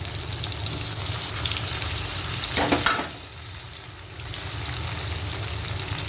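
Cumin, ginger and green chili paste sizzling and frying in a pan for a vegetarian soybean curry, a steady loud hiss with a brief burst of stirring in the middle, no talking.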